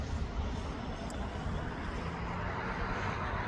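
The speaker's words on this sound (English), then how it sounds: "There's a Jet 2 LS669 to Gran Canaria" A Jet2 airliner in jet2.com livery at East Midlands Airport, a steady broad engine roar heard from a distance, continuous and unbroken throughout.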